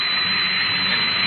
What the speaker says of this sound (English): Turn on the drill with the tread stationary.